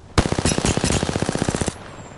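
Video game gunfire in Shin Kamen Rider: a loud, close burst of rapid automatic fire, about twenty evenly spaced shots in a second and a half, then it stops abruptly. No one talks over it.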